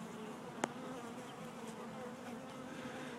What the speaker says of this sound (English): It's an amazing beehive.